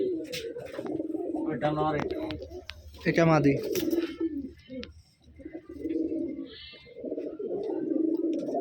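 Biscuit-coloured pigeons with feathered feet, kept in an enclosed room, coo in low rolling bursts close by while someone talks over and between the calls.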